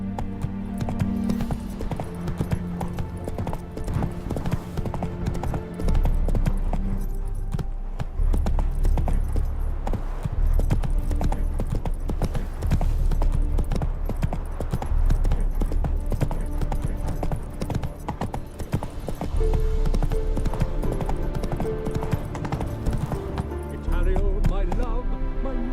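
Horse hooves clip-clop steadily in The Witcher 3: Hearts of Stone, a rhythmic trotting beat that runs throughout over a dense game music and ambience bed.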